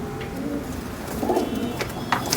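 Pigeons coo softly and close by, giving a few low throaty calls over a steady background murmur.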